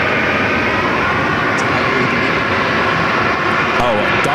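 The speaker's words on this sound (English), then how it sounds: "It's a 737-800." A United Boeing 737-800 arriving at Phoenix Sky Harbor from Washington Dulles gives off a loud, steady jet engine rumble and whine, continuous throughout with a faint voice partly heard beneath it.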